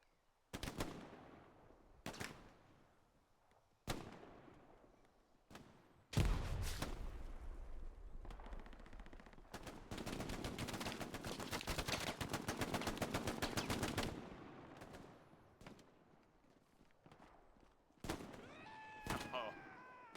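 Gunfire in the World War II shooter Hell Let Loose: scattered single shots crack out, then a long, rapid, sustained MG42 machine-gun burst rattles for several seconds, followed by a few more isolated shots.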